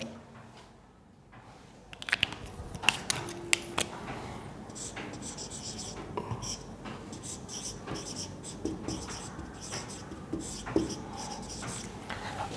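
A pen writes on paper close by, giving a steady scratchy rub with short strokes and little taps throughout. It is part of a lesson on writing an application, and there is no talking.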